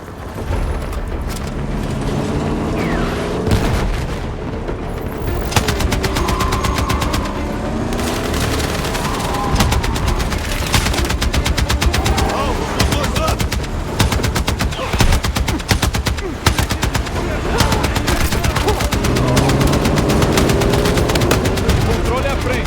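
Rapid automatic gunfire and heavy booms fill a Battlefield 6 campaign firefight, dense bursts rattling almost continuously and loudly, with shouted voices breaking through the din.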